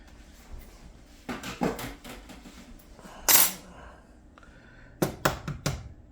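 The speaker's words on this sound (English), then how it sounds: "Stir that egg up real good." An egg is stirred in a bowl with a utensil while making salmon patties, with scattered clinks and scrapes against the dish, several quick taps near the end and a louder clatter midway.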